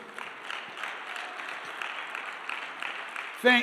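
Steady applause from an audience at an entrepreneurship talk, moderate and continuous throughout, with a louder burst near the end.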